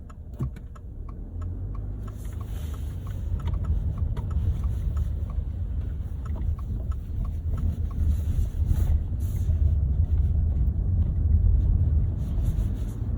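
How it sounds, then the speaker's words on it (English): A 2024 Subaru Crosstrek Onyx with a 2.5-liter engine rolls over a bumpy, rough road, giving a steady low rumble of tires and suspension with scattered small knocks and rattles, continuous and fairly loud throughout, with no talking. "we're getting into a section that's even bumpier here, and the car really soaks up the bumps very, very well"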